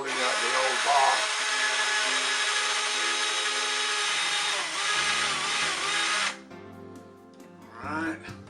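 A Craftsman battery-powered drill whirs steadily while backing screws out of an old electrical box during a fluorescent light install. It runs loud and close for about six seconds, then stops, followed by faint handling noises and a brief voice.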